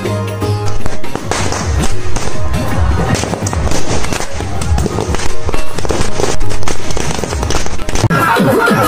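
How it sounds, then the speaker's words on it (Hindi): Firecrackers burst in a dense, rapid string of sharp cracks and pops to welcome a Bihari wedding procession, loud and continuous for about nine seconds with no clear pauses. "पटाखे से मालूम चल रहा है कि महाराज सब आ रहे"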